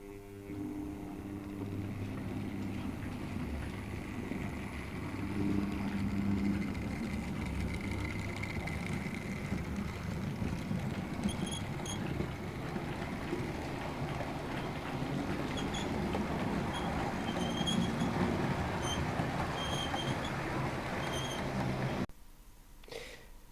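A model railway mogul locomotive double-heading with another engine on a home layout, a steady low mechanical rumble and whirr running continuously for over twenty seconds with faint clicks, then cutting off abruptly near the end.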